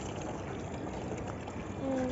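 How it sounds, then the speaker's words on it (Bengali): Water pouring onto a plant, a steady close splashing stream, with a voice briefly heard near the end. "যে গাছে পানি দিতেছে ওই যে পানি পড়তেছে আবার"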